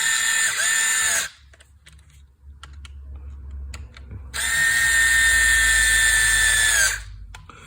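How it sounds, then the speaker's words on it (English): An electric screwdriver drives a screw into the motor mount of an Arrma Granite RC truck, with two loud, steady whirring bursts of about a second and then three seconds, separated by a quiet pause. "hold the driver loose, the electric screwdriver loosely, so that as soon as it gets to the bottom"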